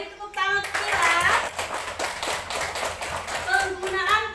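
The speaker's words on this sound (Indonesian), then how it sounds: "Oke, beri tepuk tangan untuk Kila." Students in a classroom clap for a classmate, a light patter of hand claps and taps that is not very loud, with children's voices and chatter mixed in.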